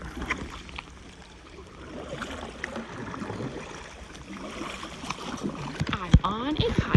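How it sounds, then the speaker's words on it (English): A kayak is paddled through the water of Charlotte Bay, Antarctica, with soft splashes, gurgles and drips from the blades, close by and fairly quiet against a light wind. "And this is Megan paddling me along."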